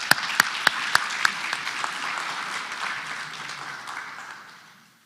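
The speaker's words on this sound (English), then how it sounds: "we want to applaud you, the students" Audience applause for students at a Mercy Scholars commencement celebration. It opens with several sharp individual claps in a steady beat, then swells into broad clapping that gradually fades away.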